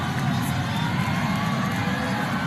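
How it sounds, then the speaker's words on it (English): The crowd at a men's volleyball SEA Games 2019 semi-final at Phil Sports Arena roars and cheers in a steady, dense wall of noise, loud and continuous. "you can hear the crowd at Phil Sports Arena"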